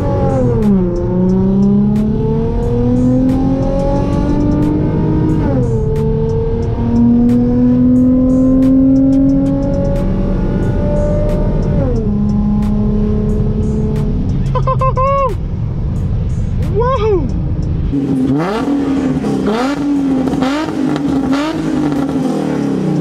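Infiniti G35 coupe with a very loud, modified exhaust revved repeatedly, the engine note climbing and falling through several long sweeps before sharper blips and crackles, heard up close.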